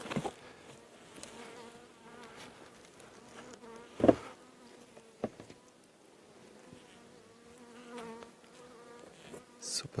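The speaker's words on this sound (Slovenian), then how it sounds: "čebelce so pridne, še nekaj trotov vidim, ki še niso šli ven." Honeybees buzz steadily at the entrance of an LR hive before winter, a faint close hum with a few louder passes near the microphone and no speech.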